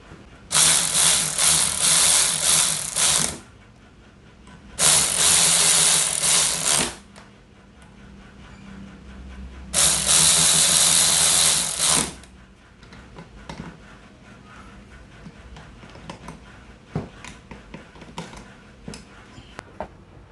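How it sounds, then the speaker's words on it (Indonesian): A Nagawa NRW16 cordless ratchet whirs in three loud bursts of about two to three seconds each, separated by pauses, followed by lighter clicks and handling noises up close. "kita bisa menggunakan ratchet cordless ini"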